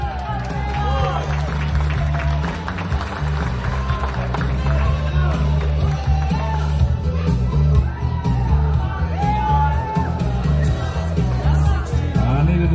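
Wedding guests clap, shout and whoop as a couple in the wedding party makes a grand entrance; the crowd noise stays loud and continuous over pounding reception music, with excited yells breaking through.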